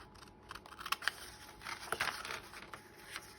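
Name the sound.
scissors cutting corners of folded paper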